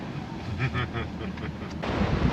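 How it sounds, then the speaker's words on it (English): Strong wind gusts roar and buffet against a parked van in Mojacar, Spain, in an uneven, rumbling rush, steady and close to the microphone. "When the vans are rocking, it's very, very windy in Mojacar."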